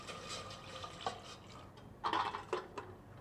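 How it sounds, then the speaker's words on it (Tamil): Water is poured into a metal idli steamer pot in a home kitchen, a soft splashing trickle with light clinks of the vessel, fairly quiet and close. "அடுத்ததாக கொஞ்சம் தேவையான அளவு தண்ணி ஊற்றிக்கலாம்."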